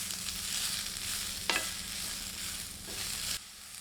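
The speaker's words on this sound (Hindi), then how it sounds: "अब उसी पैन में प्याज की स्लाइसेस डालते हैं। इन्हें 2 मिनट मीडियम हीट पर ड्राई रोस्ट करते हैं।" Sliced onions dry roasting in a pan over medium heat give a steady, close, soft crackling sizzle with a brief clatter of stirring partway through; no one speaks.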